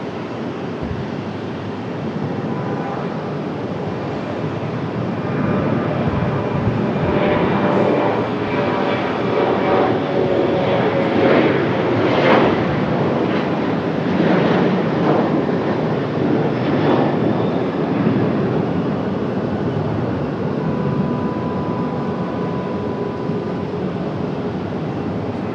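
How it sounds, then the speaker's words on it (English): An Air Canada airliner from Montreal moves through Raleigh-Durham airport with a steady, loud engine rumble and whine, growing stronger after the first few seconds and holding for a long stretch before settling slightly. "Here comes that Air Canada from Montreal."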